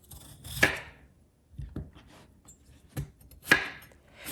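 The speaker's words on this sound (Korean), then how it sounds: "먼저 감자 한 개를 껍질을 벗긴 다음에 듬성듬성 썰도록 할게요" Knife chopping peeled potato into rough chunks on a cutting board, a few separate sharp thuds spaced irregularly, close and fairly quiet, with no talking.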